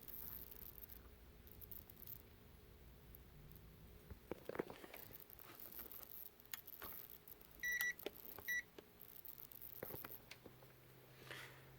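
Two short electronic beeps from a multimeter continuity test on a shorted capacitor on an iPhone 8 Plus logic board sound a few seconds apart, faint over quiet room noise and light handling clicks.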